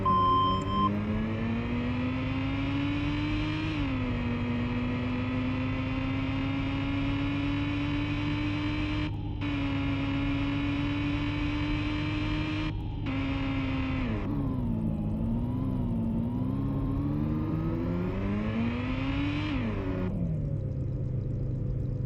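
Enemy car engines in a 3D racing video game whine steadily throughout, their pitch climbing and dipping as the cars speed up and slow through corners, with a few brief cutouts; loud, continuous and without speech.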